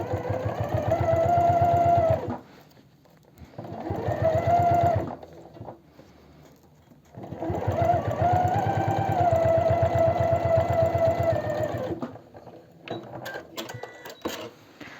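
An overlock sewing machine stitches along the edge of men's jeans in two long droning runs with a short burst between, a loud close whirring buzz separated by brief pauses.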